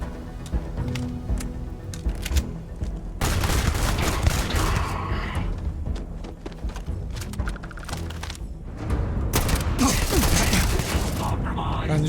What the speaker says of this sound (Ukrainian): було 3 постріли